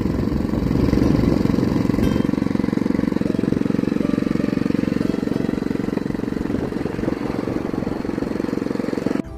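A motorized bicycle's small engine runs continuously and loudly, a close buzzing drone with a rapid pulsing rhythm that holds steady before dropping away at the very end.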